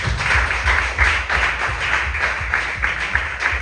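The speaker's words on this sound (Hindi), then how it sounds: "अगर आपको अच्छी बात लगी तो जोर से ताली बजाओ जरा" A church congregation claps together in a steady, dense wash of applause with faint rhythmic pulses, fairly loud and close, with no voices over it.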